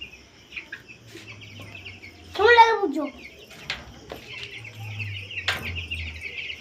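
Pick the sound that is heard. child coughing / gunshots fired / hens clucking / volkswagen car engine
hens clucking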